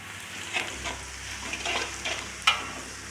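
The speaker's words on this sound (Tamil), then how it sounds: "அடுத்ததாக மிக்ஸ் பண்ணி வச்ச 3 மசாலா பொடியும் ஃப்ரெண்ட்ஸ் இந்த எண்ணெயில் நல்லா வதக்கிக்கலாம்." Three pre-mixed masala powders sautéing in hot oil for a dal stir fry give a soft, even sizzle, with a few louder crackles and stirring scrapes close by and no voices.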